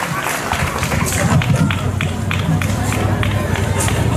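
A festival audience at an international folklore festival claps for visiting performers from Mexico, a steady clapping rhythm over background music and crowd murmur.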